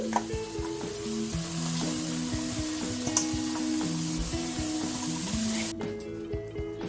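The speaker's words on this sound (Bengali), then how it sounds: "এবারে বাঁধাকপিগুলো দিয়ে দিচ্ছি।" Shredded cabbage tipped into a hot wok crackles into a steady, close sizzle with repeated stirring clatters of a utensil against the pan. The sizzle drops away near the end, and no one speaks.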